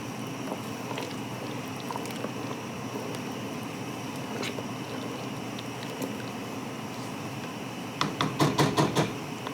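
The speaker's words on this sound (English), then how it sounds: "this is what I call our rolling boil again" Strawberry rhubarb jam at a rolling boil bubbles steadily in a pot, a soft continuous churn with a few sharper pops and clinks toward the end.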